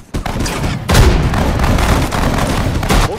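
Dense battlefield gunfire from the Pacific War campaign of Sudden Strike 4, with loud overlapping rifle and machine-gun volleys and booms rolling continuously after one brief pause.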